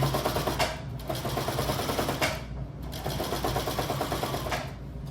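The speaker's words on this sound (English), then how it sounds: "And everything is being sewn." A sewing machine stitches tote bag pieces in a steady, rapid mechanical clatter, running close and continuous with brief dips in pace and no voices over it.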